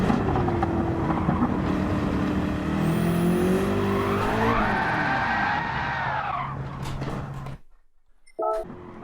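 A BMW M6 race car engine in a racing video game drones loudly, rising and falling in pitch as the car accelerates, tyres squealing through a spin before the sound abruptly cuts out.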